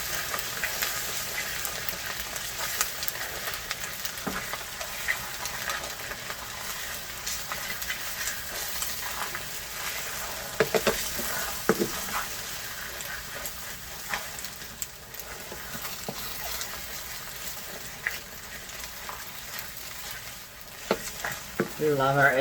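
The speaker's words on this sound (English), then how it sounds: "Just scramble them up pretty good." Eggs being scrambled in a frying pan, a steady low sizzle with occasional scraping and clinking of a utensil against the pan, moderately close and continuous throughout.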